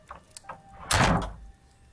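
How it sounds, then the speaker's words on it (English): A door closes in the Contradiction: Spot The Liar video game, a single soft thud-and-slide after some faint tapping, then quiet. "Just close the door."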